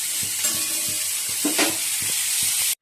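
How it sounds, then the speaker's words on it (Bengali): Cauliflower sizzles and crackles in hot oil in a frying pan, with a steady fry hiss and occasional stirring scrapes and clinks, close and alone. "আর ফুলকপিটা ভেজে নিচ্ছি।"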